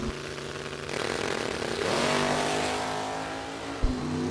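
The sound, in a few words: supercharged dragster launching at drag race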